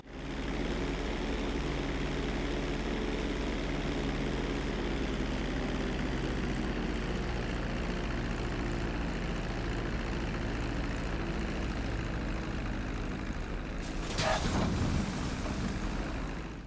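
A plane's engine drones steadily in GTA 5 Online, a constant mid-level hum that runs throughout, with a brief louder burst near the end.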